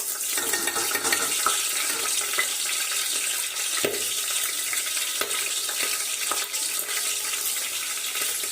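Green chilies frying in hot oil while cooking biryani, a steady close sizzle and hiss broken by scattered small pops and crackles, with no voices.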